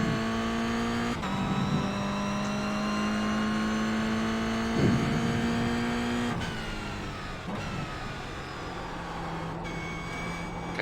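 Racing car engine in a sim racing video game, a loud sustained drone that holds steady and shifts pitch several times as the car runs and changes gear, with no talk over it.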